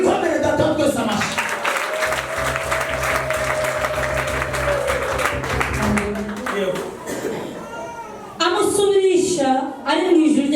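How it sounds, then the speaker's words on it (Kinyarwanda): A church congregation claps together in steady, sustained applause, with voices and some tonal background sound under the clapping throughout. "Mwikomere data twese amashyi."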